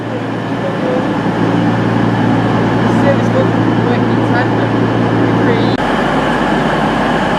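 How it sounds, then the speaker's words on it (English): A Virgin Super Voyager Class 221 diesel train to Chester departs with a steady, loud engine drone and rolling rumble that holds for several seconds, then shifts to a lower, rougher tone near the end. "departing now is the 1449 Virgin Super Voyager service to Chester on the 221101"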